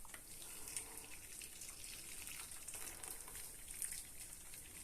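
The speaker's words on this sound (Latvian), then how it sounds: "es esmu uzvārījusi ūdeni un tūlītās uzliešu verdošu ūdeni virsū" Boiling water is poured over Mistyk cleaning granules and teaspoons, giving a steady, soft hiss and sizzle of liquid with faint spattering and no voices.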